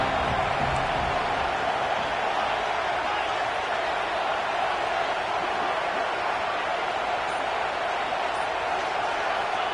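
A football stadium crowd roars for the home defense on a big third down, a dense, sustained wall of cheering and noise at steady loudness throughout.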